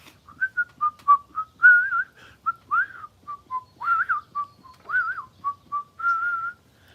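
A person whistles a cheerful Disney tune, a clear solo melody of short bouncy phrases and held notes, close and alone.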